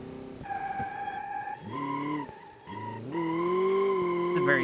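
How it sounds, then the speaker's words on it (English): A BMW M5 drifts on a tight mountain road in the BeamNG driving game. Its tires squeal in long sustained tones over a humming engine, with a brief break before a louder squeal returns. "So we're gonna try and drift this on the mountain."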